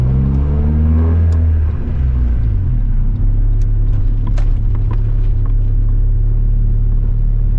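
A turbocharged Honda Civic revs loudly, its deep exhaust note rising and falling before settling into a steady, throaty rumble close by.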